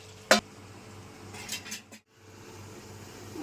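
A metal lid goes onto a pot of green chicken pulao with one sharp, close clank, followed by a few softer rattles and a brief silence, against a low kitchen hum.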